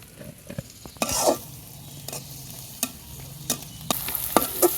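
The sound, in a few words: spice paste and onion frying in fish oil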